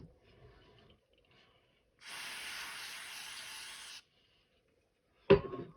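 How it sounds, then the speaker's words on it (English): A steady aerosol spray of cleaner into a new nitro engine's crankshaft port hisses for about two seconds in a quiet space, followed by a sharp knock. "Now we're going to spray it again"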